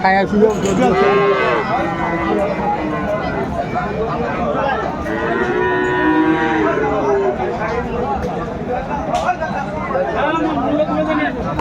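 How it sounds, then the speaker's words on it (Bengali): Dairy cows and calves of improved breed lowing and mooing repeatedly at a busy cattle market in Dinajpur, Bangladesh, with steady crowd chatter and bargaining voices throughout. "গাভী বাছুর আমরা দেখছিলাম এখানে"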